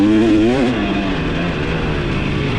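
A 2023 KTM 300 XC TBI two-stroke dirt bike engine revs up and falls back, then settles into a steady, loud, close drone with no talking.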